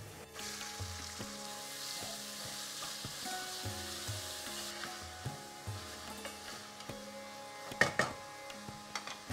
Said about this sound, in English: It's sizzling away and now go in the onions.